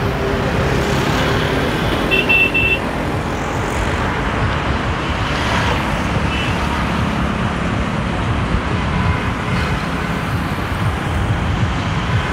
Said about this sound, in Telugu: బట్ ట్రాఫిక్ మాత్రం చాలా బాగా హెవీగా ఉంది